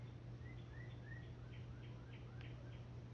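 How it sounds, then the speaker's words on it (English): Birds chirp in an analog horror video game, a series of faint, thin rising tweets repeating every half second or so over a steady low hum. "No, it's literally just birds chirping."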